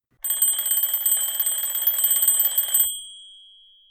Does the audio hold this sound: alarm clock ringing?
yes